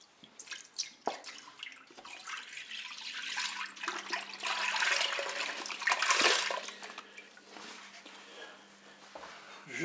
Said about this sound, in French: Je vais verser le lait dans la cuve.